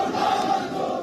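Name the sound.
crowd of protesters shouting slogans in PoK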